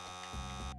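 A tonal electronic alarm buzzer from the video game Abduction Action, a short harsh droning tone with a stepped pulse partway through, fairly quiet and cutting off abruptly, with no talk over it.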